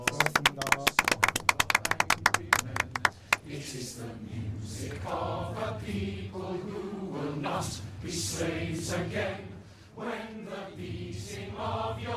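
Applause at the end of a long meeting, a brief burst of clapping from a small group during the opening seconds, close and sharp, followed by someone speaking and then music.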